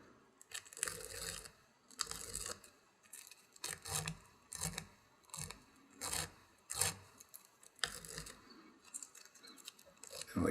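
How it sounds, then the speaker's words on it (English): A strip of Velcro brushes down over dubbing fibers wrapped on a scud fly-tying hook, making a series of close, rough rasping sweeps in an uneven rhythm, roughly a dozen strokes with brief gaps between them and no talking. "I'm going to take this and run it underneath the hook like I was polishing a shoe, and I kind of sweep down on both sides and brush those fibers down"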